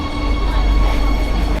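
A Madrid metro train running, a steady close rumble with a faint hum.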